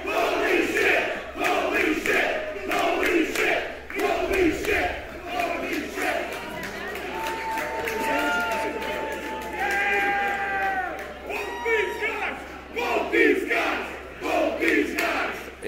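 A loud independent wrestling crowd chants and roars in rhythmic waves, with sustained yells rising and falling through a match featuring Mike Bailey and Speedball.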